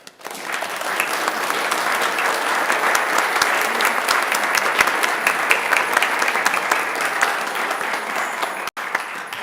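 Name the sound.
round of applause for Christmas pageant players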